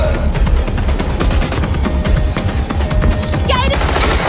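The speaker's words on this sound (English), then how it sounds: "I'm taking fire!" Sustained rapid gunfire in the video game Watch Dogs Legion, dense loud bursts of automatic shots continuing throughout with distant impacts layered beneath.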